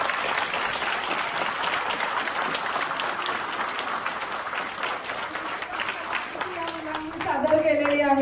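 An audience at a Marathi drama performance claps steadily for the child performers, a dense wash of applause lasting several seconds, with a voice rising near the end.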